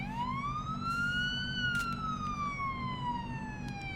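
An ambulance siren in Police Simulator: Patrol Officers wails loudly and close, with a single rising-then-falling sweep heard alone over a low engine hum.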